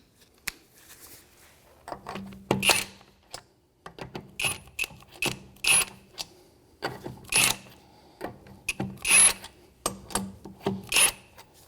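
A 19mm socket working lug nuts loose on the rear wheel of a 2011-2015 Chevrolet Cruze, giving close, rhythmic ratcheting clicks in repeated bursts with short pauses between them.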